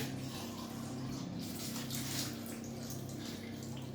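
Cold water poured from a jug into a bowl of flour and salt for Bakewell cake dough, a continuous close trickling splash heard alone over steady room hum.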